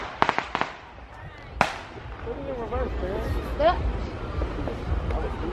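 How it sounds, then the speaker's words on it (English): Fireworks crack and pop at a 4th of July show in Greensboro, North Carolina, a quick burst of sharp reports followed by one louder bang, with a crowd murmuring and people talking underneath. "I don't do fireworks that close."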